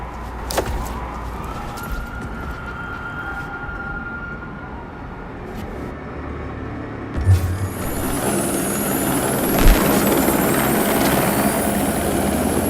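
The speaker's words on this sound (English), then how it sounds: "No, I do believe that is a helicopter." A helicopter in Watch Dogs 2 gameplay gives a steady rotor drone, joined by engine rumble and a rising whine, with a couple of sharp thumps partway through.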